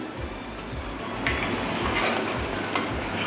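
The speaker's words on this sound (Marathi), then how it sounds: "वेलची पूड घातल्यानंतर हे सगळं मिक्स करून घ्यायचं आहे" Cooked mawa mixed with cardamom powder is stirred in a pan, a spoon scraping and tapping the metal in quick repeated strokes, soft and close, with no voices.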